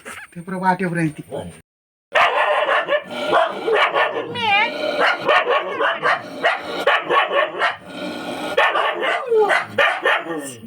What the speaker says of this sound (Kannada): ಇದು ಚಿಕ್ಕಮ್ಮನವರ ಮನೆಯದ ನಾಯಿ